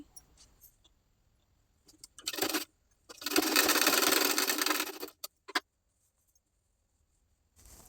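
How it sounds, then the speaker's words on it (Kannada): A sewing machine stitches tucks near the armhole of a plain sada blouse, running close and clear: a short burst, then a longer steady run of whirring stitches, then a brief final spurt, with quiet pauses between. "ಈಗ ಆರ್ಮೋಲ್ ಹತ್ರ ಇರೋ ಟಕ್ಸ್ನ ಸ್ಟಿಚ್ ಮಾಡ್ಕೊಳ್ತಾ ಇದ್ದೀನಿ."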